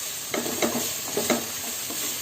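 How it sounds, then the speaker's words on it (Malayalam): Chicken fried rice ingredients sautéed with salt in a pan on high flame, a constant close sizzle with a few sharp spatula stirring scrapes, no voices. "ഇതിനകത്തേക്ക് ഒരു 1/4 ടീസ്പൂൺ ഉപ്പും കൂടെ ഇട്ടിട്ട് വഴറ്റിയെടുക്കാം."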